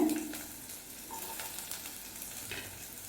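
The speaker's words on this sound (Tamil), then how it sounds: "இப்போ இதில் பொடியாக கட் பண்ண வெங்காயம் ஒரு சின்ன சைஸ் வெங்காயத்தை சேர்த்துக்கோங்க" Chopped small onion hits hot oil with popping mustard seeds in a pan, frying for a dried anchovy dish. A steady close hiss and crackle runs throughout, with faint stirring scrapes and no voices.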